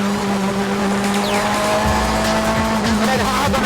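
A race car, braking flat in sixth and dropping down through the gears, then hard on the brakes into second for a tight 90-degree right-hander, engine loud and close with pitch steps as it downshifts and a tyre squeal, a voice talking over it.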